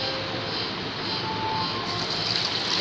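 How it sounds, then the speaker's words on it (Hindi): About three litres of water poured from a jug into a pot holding beef bones, trotters, ginger and garlic for a Lahori broth, a steady continuous splashing rush throughout. "आपने इसमें तकरीबन 3 लीटर पानी डालना है"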